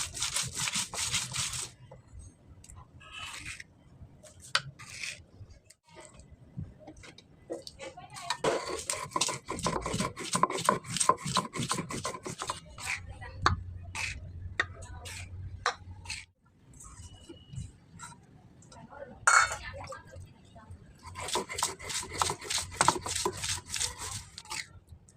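Whole garam masala, chopped onion, ginger and garlic ground together on a grinding stone, heard as bursts of rhythmic rasping, scraping strokes close by, broken by short pauses and knocks.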